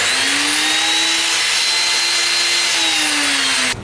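Router motor mounted in a router table whines loudly and steadily for nearly four seconds at a constant high pitch, then cuts off abruptly at the end, with no talking over it.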